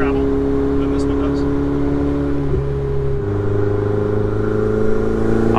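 Engine of a Ferrari 488 Spider pulling in 6th gear at around 2,700 RPM on a mountain drive, a deep steady drone with a shifting hum heard from the cabin under continuous talk.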